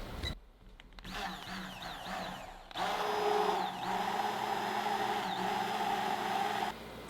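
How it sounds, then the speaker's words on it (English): A stick blender whirs steadily for several seconds while mixing the water phase into the oil phase of a homemade lotion, with brief handling noises before the motor starts. "And I'm going to stick blend."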